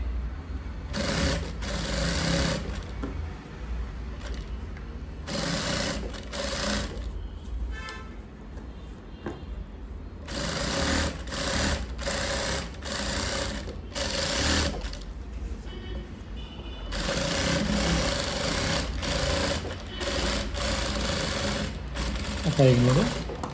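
A sewing machine stitches a blouse lining in a tailoring class, running in loud, steady bursts of several seconds each, broken by brief pauses between seams.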